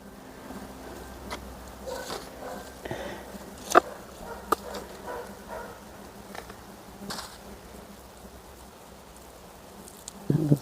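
Bees buzz around blackberry flowers in a garden with a faint, steady hum, broken by a few sharp nearby knocks and rustles and no talking.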